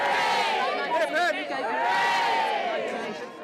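A crowd outside in Wales cheers and shouts together, a dense, loud, sustained roar of many voices with rising whoops, close and unbroken for a few seconds.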